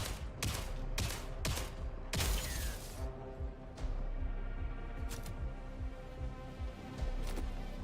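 Shotgun blasts ring out in a sci-fi space co-op game, a quick burst of four sharp, loud reports followed by a few more spaced shots over a low, steady ambient hum.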